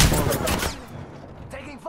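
Video game gunfire: a dense, loud burst of rapid shots at the start that stops abruptly, leaving a quieter stretch before faint game sounds return.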